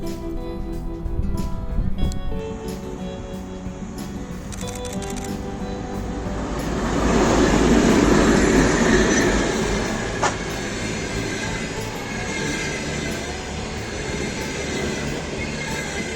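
Rybinsk passenger train hauled by a round-headlight locomotive, number 661, approaching and passing close with a rising rumble of wheels and wagons that swells midway and then settles into a steadier rolling drone.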